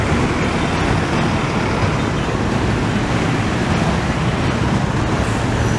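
Dense city road traffic heading toward a downtown area in Bahia, Brazil, heard as a steady, loud wash of engines and tyres with no breaks and no voices.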